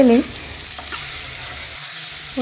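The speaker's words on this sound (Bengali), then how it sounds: "তেলেই ওল আর আলুটা একটু ভেজে নেবো" Taro and potato pieces fry in hot oil in a wok, a brief, close crackling sizzle with a light stir, bracketed by short snatches of a voice at the start and end.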